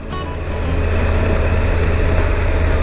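An adventure bike motorcycle rides a rocky mountain road with a steep drop-off, its engine a steady, close, loud drone with rushing wind and no talking.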